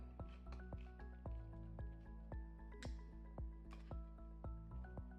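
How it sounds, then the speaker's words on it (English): Water drips and splashes as the lid of a can is rinsed under a kitchen tap, a quick series of close, wet taps in an uneven rhythm, fairly quiet. "Always good to rinse the lid on cans."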